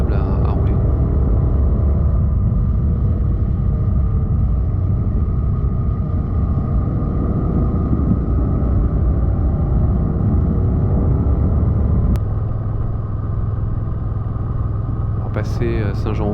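A motorcycle rides a winding, clean-surfaced forest road near Compiègne, its loud, close engine droning steadily with wind rumble before the tone shifts lower near the end.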